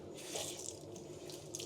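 A hotel bathroom tap runs water onto a piece of tissue, a steady close splashing hiss with small fluctuations, alone and fairly quiet.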